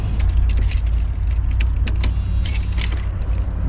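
Car keys jangling close by as the ignition is switched on, a bright metallic clatter over a constant low engine-like rumble throughout.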